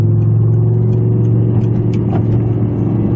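An Audi R8 supercar with a loud Armytrix exhaust drones steadily inside a tight, enclosed car park, a deep sustained engine rumble that stays loud and close throughout.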